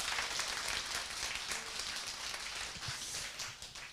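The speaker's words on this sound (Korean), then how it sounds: "본인을 위해서 큰 박수 한번 보내주시기 바라겠습니다" An audience breaks into applause, a dense, steady patter of many hands clapping that sounds fairly distant and fades slightly toward the end.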